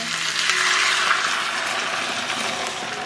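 Pork neck bones sizzle loudly in a hot pan as a sauce mixture is poured over, producing a steady, dense hiss that stays close and continuous throughout, with no voices.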